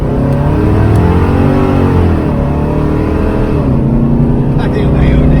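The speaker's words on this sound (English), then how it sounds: "that damn exhaust I'm hearing just sounds weird" A Foxbody Mustang with an automatic overdrive transmission and a 4:10 gear swap produces a loud, steady exhaust drone, a dense low rumble that holds nearly constant with slight pitch sways across a few seconds up close.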